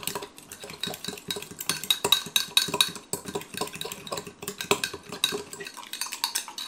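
Ketchup and brown sugar are stirred together in a bowl, a quick rhythmic run of spoon clinks and scrapes against the sides, close and lively, with nobody talking.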